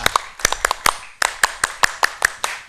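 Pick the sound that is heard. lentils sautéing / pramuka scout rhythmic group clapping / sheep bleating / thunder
pramuka scout rhythmic group clapping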